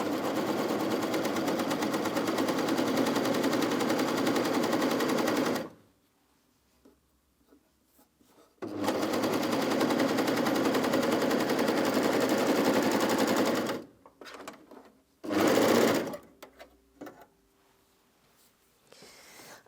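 Bernette b68 airlock overlocker stitching a seam on jersey fabric, running in loud, steady whirring bursts of about five seconds each, separated by quiet gaps and a couple of brief starts and stops.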